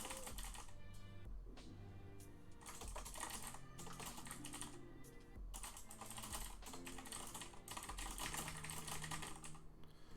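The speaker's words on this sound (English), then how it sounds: "I think I'm pretty fast typing." Fast, continuous typing on a computer keyboard fills the scene, dense clicking keystrokes in uneven bursts with brief pauses, close and steady throughout, over a faint low hum.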